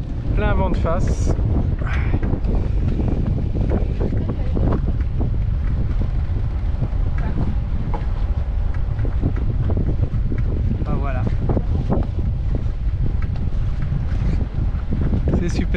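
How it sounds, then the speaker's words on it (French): Strong headwind roars steadily across the microphone aboard a sailboat at sea, a constant low rumble with water sounds beneath and brief voices in the background. "Donc là on est plein vent de face."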